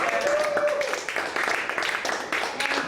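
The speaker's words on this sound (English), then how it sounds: "Round of applause for James," Audience at a live show clapping; a dense burst of applause that carries on for a few seconds, with a host's voice over it.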